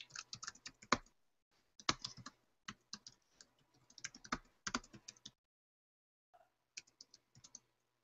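Computer keyboard typing of a short card note, bursts of quick key clicks separated by brief pauses, close and clear with no talking.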